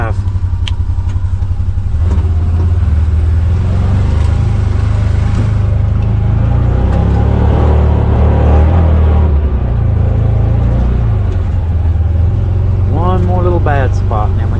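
Jeep crawling in four-wheel drive over rough ground on an Appalachian trail near the Tug River, a loud steady engine drone with rumbling and jostling throughout, plus brief squeaks near the end.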